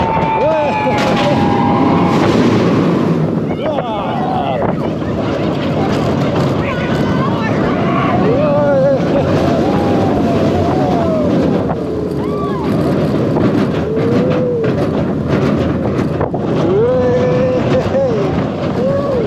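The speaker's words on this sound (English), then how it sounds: "on-ride footage there then on the middle row of the 2005 B&M Flawless Dive Coaster" Riding the middle row of the 2005 B&M Dive Coaster SheiKra at Busch Gardens Tampa Bay: loud rushing wind roar and rumbling track noise throughout, with riders shouting and talking over it.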